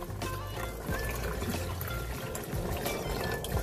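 Lactic acid bacteria serum, about one liter, poured from one container into another, a steady close trickling and splashing of liquid running continuously without talk.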